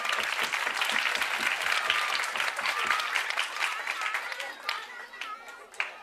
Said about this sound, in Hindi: जोरदार तालियां बजाना। एक बार प्रैक्टिस कर लेते हैं